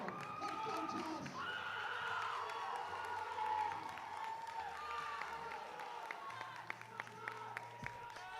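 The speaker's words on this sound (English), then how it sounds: "Keep the applause going." Crowd at a USAPL powerlifting meet applauding and cheering for a lifter's deadlift, a sustained wash of clapping and shouts, while an announcer's voice talks over it throughout.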